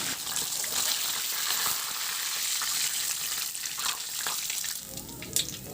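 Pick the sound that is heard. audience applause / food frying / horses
food frying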